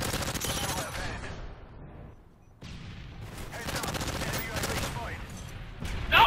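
Rapid gunfire from an unsuppressed MK14 rifle in Call of Duty: Modern Warfare 3, dense bursts of shots with a short lull in the middle, mixed with game effects and voices talking over it.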